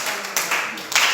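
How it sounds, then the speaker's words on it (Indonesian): A school class applauding, a brief burst of scattered hand clapping, with voices faintly mixed in. "Kerjaannya tepuk tangan dulu buat semua ya."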